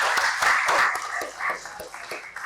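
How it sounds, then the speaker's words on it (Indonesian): A school class in Bogor breaks into a burst of hand clapping, a dense run of sharp claps that swells and then thins out, with voices mixed in under it. "Oke, tepuk tangan untuk kita semua."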